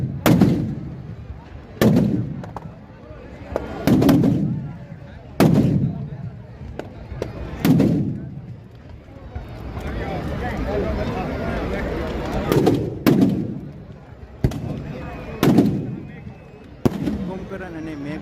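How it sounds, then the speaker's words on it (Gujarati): Firecrackers packed inside burning Kumbhakarna and Meghnad effigies burst at a Ravan Dahan celebration in Bhavnagar, loud sharp bangs every couple of seconds with a denser crackling burst midway, and someone speaks over the blasts. "કુંભકરણ અને મેઘનાથની અંદર કમસે કમ 150 બોમ્બ નાખવામાં આવેલા છે"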